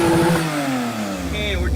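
A Porsche 991.2 Turbo engine revs in a garage. The pitch sweeps down and then climbs again over a short burst, fairly close and loud, with no clear talk over it.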